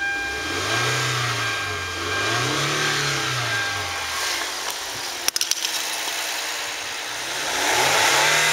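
A Hyundai Sonata with a 3.3-litre V6 and automatic gearbox, showing 94,090 miles, is revved at a salvage yard. Several swelling revs rise and fall over a steady idle, with a couple of sharp clicks near the end.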